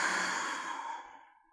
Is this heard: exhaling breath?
yes